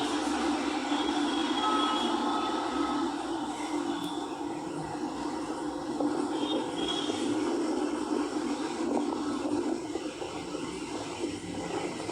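A plane that has just arrived from the Air Force, recorded at an airport during a field visit. It gives a steady, loud roar of engine and rumble noise that runs throughout with no pauses and no talk.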